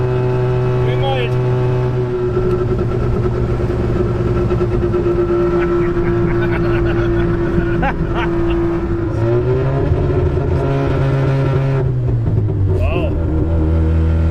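An abandoned rotary-engined pickup in freezing weather runs roughly, its engine droning and wavering loudly before faltering, dipping and dying near the end, while people talk over it.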